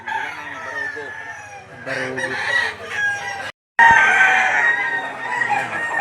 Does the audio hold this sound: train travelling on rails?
no